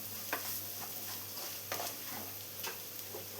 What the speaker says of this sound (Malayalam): മഞ്ഞൾപ്പൊടിയുടെ റോസ് സ്മെല്ലെല്ലാം ഒന്ന് മാറി വരുന്നവരെ ഒന്ന് വഴറ്റി കൊടുക്കാം